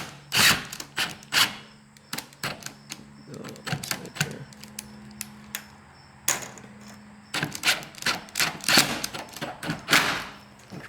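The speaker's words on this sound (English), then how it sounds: "And these pole barn screws work pretty good too, because they got the big washer on them." Pole barn screws with large washers are driven into wood to fasten hardware cloth on a walk-in chicken coop, giving repeated short bursts of driver whirring and clattering, with a pause in the middle, close and loud.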